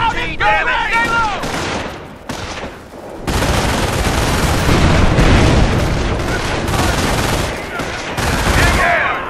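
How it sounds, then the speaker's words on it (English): Heavy gunfire in the Company of Heroes video game, with a machine gun and rifles crackling in dense bursts alongside booming impacts, loud and sustained, while soldiers shout over the battle. "Fire that MG!"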